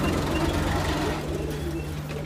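Pigeons coo softly and continuously, low throaty murmurs overlapping against a steady background hum.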